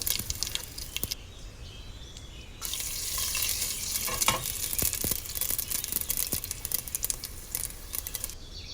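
Garlic and curry leaves with asafoetida fry in hot oil for a Konkani-style sambar, giving a steady, close broadband sizzle with scattered pops and crackles that grows denser partway through.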